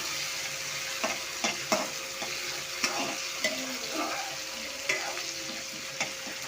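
Sliced onions fry in a pan for a vegetable kurma, with a steady sizzle and regular scraping taps of a spoon stirring them, close and alone.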